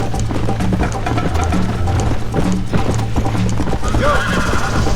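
A horse in the video game Red Dead Redemption gallops with steady rhythmic clip-clop hoofbeats, loud and close, with a whinny toward the end over game ambience.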